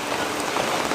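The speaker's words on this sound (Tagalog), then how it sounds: "So, 5 araw na yung ulan dito." Steady rain falls during a low-pressure storm that has lasted five days, a dense, even patter on surfaces throughout the brief moment, with no voices.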